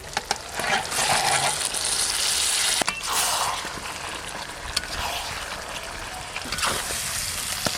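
Fried chicken pieces going into a pan of cabbage and spices, giving a steady loud sizzle and hiss throughout with a few brief clinks, no talk.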